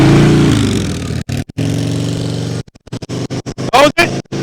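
Motorcycle engine idling and revving low during slow-speed cone riding practice, a steady mid-pitched drone giving way to choppy bursts, with an instructor's voice over it.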